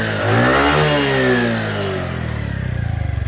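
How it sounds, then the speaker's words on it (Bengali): A kick-started Bajaj Platina 100cc motorcycle engine revs up close, rising to a strong roar then dropping back toward a steady, pulsing idle, with no voices over it. "আপনারা ইঞ্জিনের সাউন্ড শুনতে পাচ্ছেন।"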